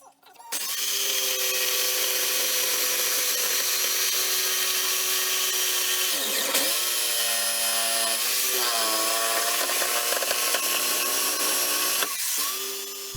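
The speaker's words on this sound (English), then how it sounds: "I cut it out with a jigsaw." A jigsaw cuts scrap wood with a loud, sustained buzzing whine close by, its pitch dipping a few times as the blade bites into the curves.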